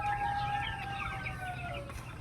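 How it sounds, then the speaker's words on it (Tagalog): Broiler chicken chicks peep and chirp continuously in overlapping high calls over a steady low background hum, with no speech. "Yung mga sisiw natin."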